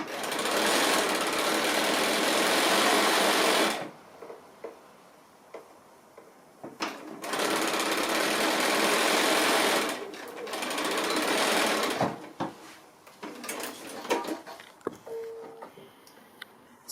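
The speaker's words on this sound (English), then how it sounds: "So just a 1/4 inch seam all the way along." A sewing machine stitching a quarter-inch seam on a roly poly cylinder pin cushion, running in loud steady bursts of rapid whirring with pauses between them and soft handling clicks.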